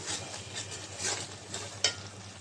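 Kolmi leafy greens with potato being stirred in a pan, a soft continuous scraping and light sizzle with a sharper clink near the end, close and steady.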